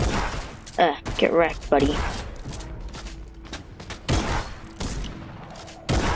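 Sniper gunfire in a Fortnite match comes as a few sharp broadband cracks spread across the stretch, one near the start, others around the middle and the end, while a player talks over the gameplay.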